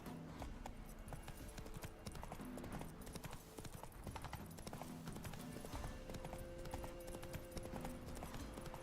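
Roach the horse gallops in The Witcher 3 video game, a quiet, steady, rapid clip-clop of hooves that runs throughout, with faint background sound.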